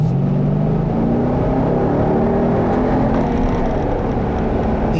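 A 2007 Mercedes-Benz SL550 with a 5.5-liter V8 pulls steadily under acceleration on a test drive, its engine drone rising gradually in pitch over constant road rumble, heard from inside the car with no talking.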